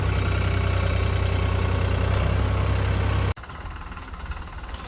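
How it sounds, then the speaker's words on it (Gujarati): A farm tractor's engine runs at idle, a loud, close, steady diesel rumble with a fast knocking pulse, then cuts abruptly to a much quieter, softer engine sound for the last moments. "ટ્રેક્ટર કાઢી લીધું છે અને હવે અમે જઈએ છીએ ખેતરની અંદર"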